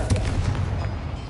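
A Confringo fire spell cast in Hogwarts Legacy gives a short, loud, low booming blast with a crackling burst, lingering a moment and then fading, with no talk over it.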